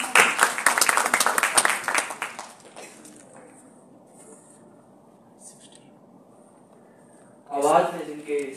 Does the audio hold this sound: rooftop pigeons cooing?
no